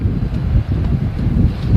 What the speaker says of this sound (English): it is windy up here too